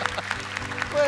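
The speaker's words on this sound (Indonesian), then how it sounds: "Tepuk tangan untuk Nuno." A studio audience applauds a young contestant named Nuno on the Hafiz Indonesia 2019 show, a brief burst of clapping mixed with voices and a rising tone near the end.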